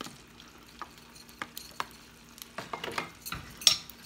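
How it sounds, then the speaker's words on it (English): Vegetables and broccoli stirred around a frying pan, with scattered scrapes and light utensil clinks against the pan over a soft sizzle, growing busier toward the end. "I'm going to give it a good stir around"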